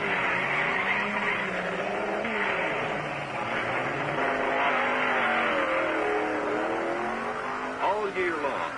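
Drag racing car accelerating down a quarter-mile track, its engine roaring and revving in a steady, loud drone with rising pitch sweeps, heard with talk over it throughout.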